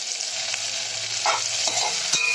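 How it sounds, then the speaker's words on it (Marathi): Chopped tomato sautéing in a pan for green moong dal khichdi, a continuous close sizzle with soft scraping stirs and a light clink near the end, no voices. "त्याला थोडंसं मऊ होईपर्यंत आपण परतून घेऊयात व्यवस्थित"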